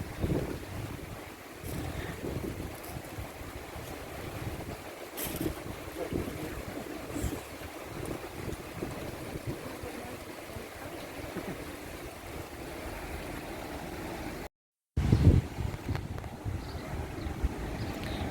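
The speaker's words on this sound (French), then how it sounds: "Puis il y a le Mistral, hein, c'est comme sur Marseille." Strong Mistral wind gusting outdoors near the sea, a steady rushing roar with buffeting microphone noise and a brief dropout near the end, no voices.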